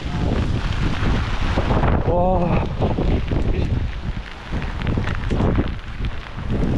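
Strong gale whipping through Hakpo campsite on Ulleungdo, a loud, steady roar buffeting the microphone for the whole stretch, with a brief exclaiming voice near the start.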